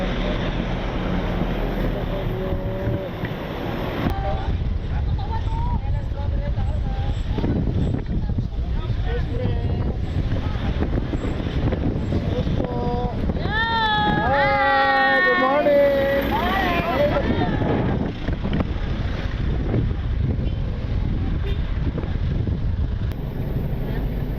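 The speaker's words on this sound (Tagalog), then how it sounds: "Grabe kalakas ng hangin dito" Heavy wind buffets the microphone with a constant low rumble at a park in Tagaytay City, Philippines, while voices talk and call out over it.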